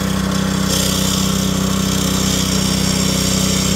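A Gorilla early entry concrete saw runs steadily at close range, a loud continuous motor whine with a strong low hum and no breaks or speech.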